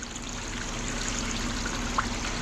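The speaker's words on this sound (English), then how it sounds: "Man, this sluice does such a good job, or it did in the past, of cleaning that copper." Water runs steadily through a sluice carrying dirty scrap copper, a continuous close trickling and pouring wash with a faint hum underneath and one small clink near the end.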